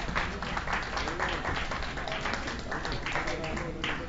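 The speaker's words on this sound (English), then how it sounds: "let the records reflect the massive applause that the Senate President received" Continuous applause fills the Philippine Senate session hall, steady and moderately loud with voices mixed in.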